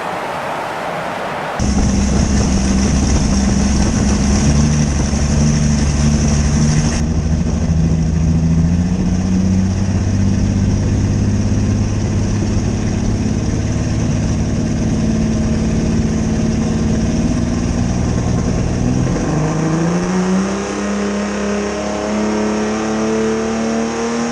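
A Convict gasser car engine running on a dyno, firing up and then droning steadily at a sustained roar with a rising pitch near the end, loud and alone with no talk.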